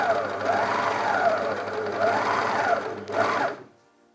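A sewing machine stitches the sleeves of a hook-and-eye top in a steady, close, continuous whir with rhythmic mechanical pulsing, a brief pause and restart, then stops near the end.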